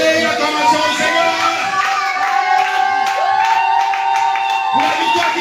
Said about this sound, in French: Est-ce que tu peux donner l'acclamation au Seigneur?